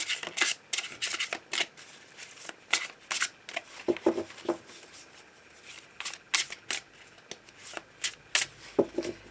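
Tarot cards are shuffled and cut by hand, a quick irregular run of crisp riffling flutters and soft slaps, close and fairly quiet, with no voice over them.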